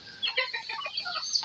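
Chickens clucking close by on a farm, a quick run of short, bright clucks and squawks with no talking.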